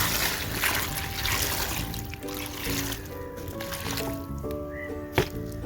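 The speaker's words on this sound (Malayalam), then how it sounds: "ഇതിൻ്റെ മുകളിലേക്ക് നമുക്ക് കുറച്ച് വെള്ളം ഒഴിച്ചു കൊടുക്കാം." Water is poured over a leaf-mulched air potato planting, with a close steady trickle and splash soaking into the dry leaves, then a single sharp knock near the end.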